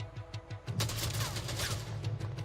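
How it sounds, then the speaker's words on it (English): Machine gun fire from a video game trailer: sparse shots at first, then a sustained, dense rattling burst of automatic fire with broadband crackle that stays loud to the end. "Machine gun."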